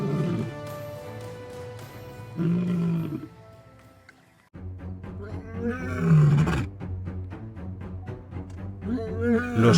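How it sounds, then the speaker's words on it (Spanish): Young lions charging into a rival pride's territory, giving deep, loud roars and grunting calls in repeated bursts, close and powerful, building toward the end over a steady low rumble. "Los jóvenes leones irrumpen en el territorio con rugidos ensordecedores."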